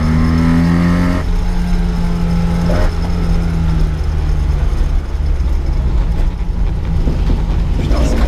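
A 1980 Mitsubishi Minica with a carburettor is driven on a road, its small engine droning steadily up close. The pitch climbs and drops as it revs and shifts through gears, with road noise underneath.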